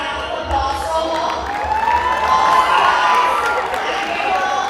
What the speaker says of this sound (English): So please give a round of applause for her.